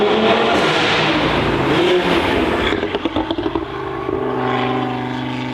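A 550 hp Audi RS3 engine roars loudly and continuously at the Nürburgring, rising and falling with a few sharp throttle blips in the middle before settling into a steady growl.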